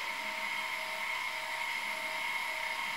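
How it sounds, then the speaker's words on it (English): An iOptron ZEQ25GT telescope mount slewing at its maximum rate gives a steady, continuous high-pitched motor whine, close and unbroken throughout with no talk. "That's as loud as this mount gets."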